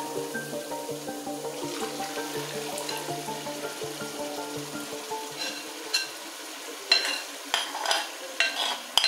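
Blended pepper, onion and crayfish go into a pot of boiling egusi melon soup, giving a steady wet bubbling and sizzle that turns into louder splashy stirring bursts toward the end.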